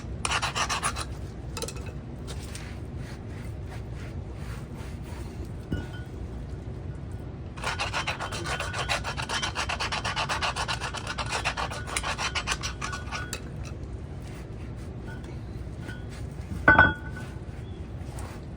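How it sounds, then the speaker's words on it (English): A screwdriver scrapes and cleans out a tractor three-point linkage hitch hook in close rasping, scratching bursts, a long steady stretch of scraping in the middle, and a sharp metallic clink near the end. "giving that a real good clean and scrape out with a screwdriver"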